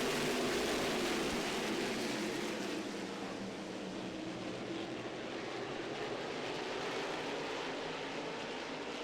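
Modified race cars with 600 horsepower engines roaring around Orange County Speedway during the Rumble in Rougemont, a loud continuous engine drone from a pack of cars that holds steady for the whole stretch.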